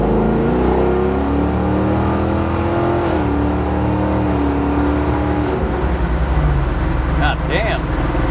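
An LS-swapped Chevrolet Nova with an L99 engine and automatic transmission accelerates hard on a highway, its V8 roaring loudly and rising steadily in pitch through the gears, with a brief voice audible near the end.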